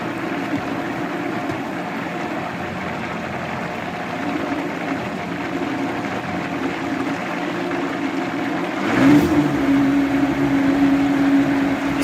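A blender whirring steadily as it purees aloe vera fillets, a dense churning motor roar that rises in pitch and loudness near the end when the speed is turned up.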